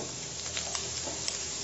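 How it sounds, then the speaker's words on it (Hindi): Potatoes with turmeric frying in a pan on the stove, a steady close sizzle with a few soft clicks of stirring, alone without talk. "थोड़ी देर इसको और फ्राई कर लेते हैं"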